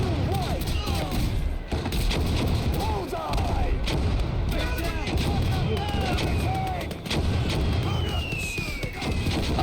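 Mortar fire in an Army Men war video game, heard as dense, rumbling volleys of booming blasts and thuds that continue throughout, loud and close, with whistling shells and a voice talking underneath.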